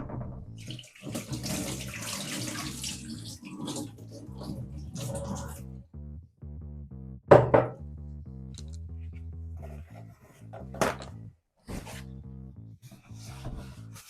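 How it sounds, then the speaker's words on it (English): Warm tap water rinses a Pinter 3 brewing keg, with intermittent running and splashing in short bursts, a few sharper knocks and rubbing sounds between them, close and moderately loud. "Give this a quick rinse down."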